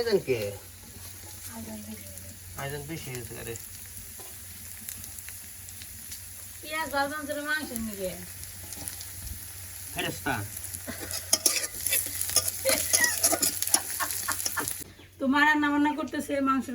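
Meat frying and being stirred in a pan in a home kitchen, a steady sizzle with scraping strokes, while chickens cluck nearby and people talk intermittently.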